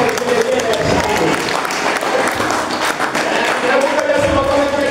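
A church congregation claps and cheers loudly and steadily during a worship service, a dense wall of hands and voices that continues without pause.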